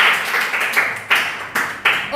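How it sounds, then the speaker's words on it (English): Group of people clapping in a classroom during a phonics lesson, several short bursts of applause in a row, fairly close and moderately loud. "Clap for you."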